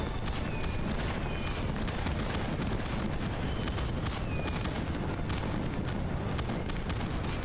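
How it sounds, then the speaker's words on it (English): Fireworks show in the life-sim game Sandrock, with a steady, dense barrage of booms and crackling bursts running continuously at high loudness, faint whistles rising above the noise. "This is a fireworks show."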